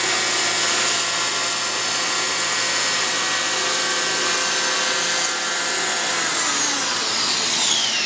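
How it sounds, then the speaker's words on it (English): A Festool HL850 electric planer runs handheld while cutting a chamfer on a wooden piece, giving a loud, steady high-pitched whine with dense broadband cutting noise that holds for the whole stretch and shifts slightly in pitch near the end. "I'm going to try to put a chamfer on the piece in the handheld mode."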